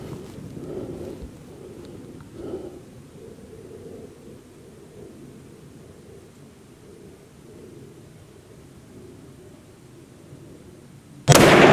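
A single .308 rifle shot fired outdoors, a sudden loud boom that hits right at the end after a long stretch of quiet low ambient rumble.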